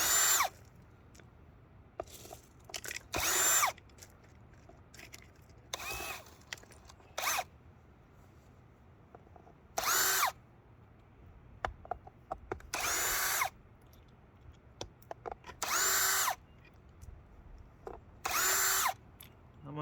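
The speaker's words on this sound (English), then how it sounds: "Just taking a bunch of screws out for right now." Cordless power drill backing screws out of worn wooden railroad ties on a hillside track, whining in repeated bursts of one to two seconds separated by pauses, close and loud over quiet outdoor background.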